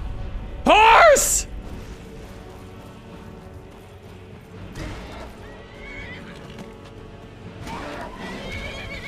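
A horse lets out one loud, shrill whinny that rises and falls, then fades into a low rumbling game ambience with faint clip-clopping and background noise.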